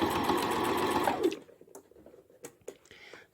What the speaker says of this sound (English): I'm just going to take a couple of stitches here and back stitch again several times here